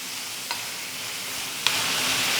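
Carrots sautéing in ghee, a soft, even sizzle held close throughout, with two faint clicks of a utensil against the pan.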